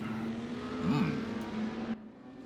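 A BMW M4 GT4 race car engine in a racing video game drones with a steady tone, rising in a brief rev swell midway before cutting off sharply near the end.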